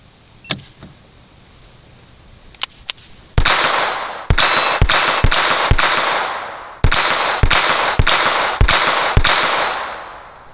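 A Ruger Mark IV .22 caliber handgun fires about ten loud, close shots in two quick strings, each crack ringing with a short echoing tail, after a few light metallic clicks of handling.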